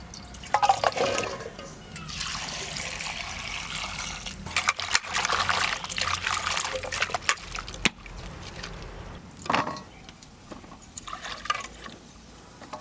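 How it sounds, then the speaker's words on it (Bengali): Data stalks, potatoes, carrots, sweet potatoes and olives washed together in a basin of water, with sloshing, splashing and trickling that swells and pauses, close by with no talk. "ডাটা আছে, গোল আলু, গাজর, মিষ্টি আলু, জলপাই আলু একসঙ্গে ধুয়ে নেব"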